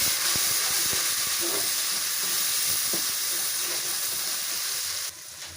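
Frying onion masala with garlic, ginger and green chillies, sizzling steadily in a pan as a little water goes in, with scattered stirring clicks and a sudden drop in hiss near the end.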